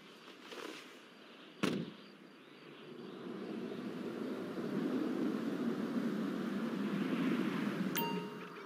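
An airplane engine in GTA V drones steadily, swelling from a low rumble to a louder sustained roar, with a sharp bang and a brief electronic chime breaking the sound.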